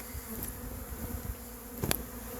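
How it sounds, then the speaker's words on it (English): A honey bee swarm flies around and settles onto the hive colony, a soft steady buzzing hum with a few nearer bees droning past, fairly quiet and continuous, with no talking. "So now they are flying in the air and aggregating on the colony."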